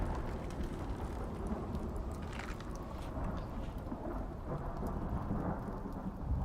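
Steady rain and rumbling thunder in the survival game Icarus fill the whole stretch, a dense continuous wash of downpour with low rolling thunder and no voices.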